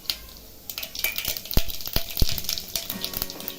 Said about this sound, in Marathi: आता मोहरी टाकायची आहे मोहरी तरतडली की जिरं टाकायचं आहे